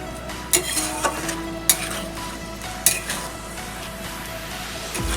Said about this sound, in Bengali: আমি এবার আবার নেড়ে দেব, সব একসঙ্গে মিশিয়ে দেব।